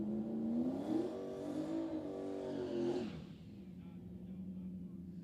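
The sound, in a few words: drag race car with LS engine revving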